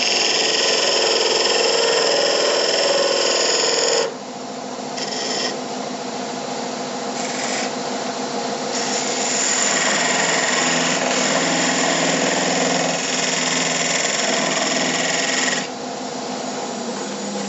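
A sharpened skew chisel cuts wood spinning on a lathe, giving a steady, loud scraping rasp that carries on continuously and shifts in tone as the cut changes.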